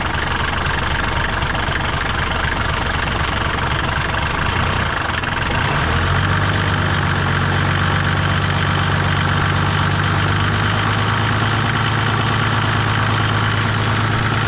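An engine runs steadily and loud throughout; a little throttle at about six seconds lifts into a firmer, even drone with no talk over it.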